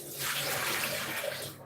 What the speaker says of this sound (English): draining the water out.